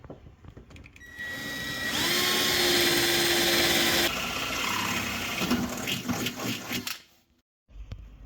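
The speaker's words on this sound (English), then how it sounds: "I'm just drilling the holes in now where I've marked them up before to get the wheel arches on" A power drill whirs steadily at high speed for a few seconds, drilling holes in a Mercedes 190E 2.3-16 Cosworth to fit wheel arches, its pitch shifting as it bites in, then stops with some clattering handling noise.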